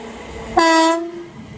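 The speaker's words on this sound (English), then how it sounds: "Soon to arriving now is the 1559, I think, London Northwestern Railway service from" A London Northwestern Railway Class 350 electric unit arrives at Watford Junction on the West Coast Main Line and sounds one loud, close two-tone horn blast with strong harmonics. The blast ends sharply and a faint rail rumble continues underneath.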